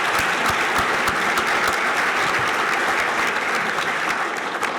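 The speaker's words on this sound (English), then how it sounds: "One more round of applause." Dense, sustained applause from a large crowd at a university athletics Hall of Fame ceremony, an even roar of clapping with no breaks for nearly five seconds.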